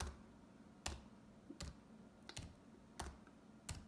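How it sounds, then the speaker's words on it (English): Computer keyboard typing a search, six sparse, quiet key clicks spaced irregularly in a near-silent room. "So I will type in again,"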